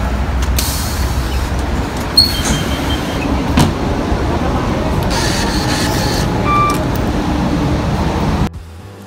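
Rumbling ride aboard a city bus in New York, steady low engine and road noise with brief brake hiss and faint tonal chimes, ending abruptly near nine seconds.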